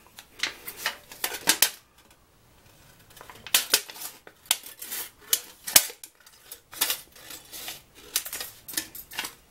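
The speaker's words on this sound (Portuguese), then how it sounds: "Vamos ver a tesoura." Scissors cut through a thin aluminum drink can in bursts of crisp, crackling snips, with short pauses between the cuts, fairly close and with no talk.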